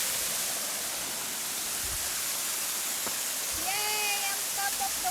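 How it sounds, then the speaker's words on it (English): Broadband rushing water roars steadily from atop Madden Falls on a hike, a constant close hiss, with a brief high voice and faint birdlike chirps near the end. "On top of the waterfall."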